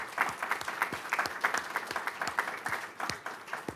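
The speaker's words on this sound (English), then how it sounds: "We give him a round of applause." Audience at a conservative legal conference on election integrity applauding at the end of a judge's talk, a steady dense wash of clapping from a crowd indoors, with no talk over it.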